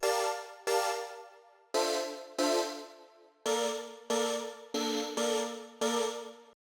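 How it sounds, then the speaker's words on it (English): An airy voice-pad synth layer plays a sequence of sustained chords, each swelling in with a soft attack and held before the next, about nine chord hits alone without any voice. "layer 3 is this airy kind of"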